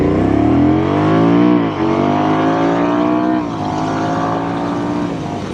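Honda Rebel 1100 DCT motorcycle pulls away in sport mode, its engine revving hard and climbing in pitch, with a quick dip at a gearshift before pulling again, loud and close.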